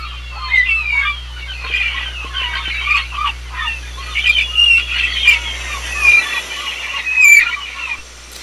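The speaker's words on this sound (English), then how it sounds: "those are they're really, really loud seagulls" Loud, shrill seagull calls repeat in quick bursts over a steady low hum, with several overlapping cries rising and falling.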